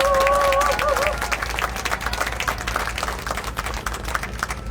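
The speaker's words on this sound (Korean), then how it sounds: "큰 격려의 박수 한번 부탁드립니다." Crowd at an outdoor election campaign rally near Yonsei University in Sinchon, Seoul, claps in a brief burst of applause. It starts loud, tapers over a few seconds and mixes with crowd murmur and a short whistle.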